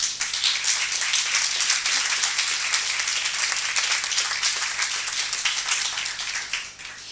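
Sustained applause from a crowd at a university academic event, dense clapping at a steady level that fades slightly at the end.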